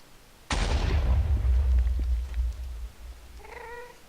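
Ghast fireball exploding in Minecraft's Nether: a sudden loud blast with a deep rumble that decays over a couple of seconds, followed near the end by a brief high, wavering cry from the ghast.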